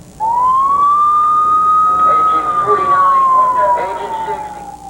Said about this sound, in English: The sirens seem to wail a more pain-filled cry when the victim needing help is a child.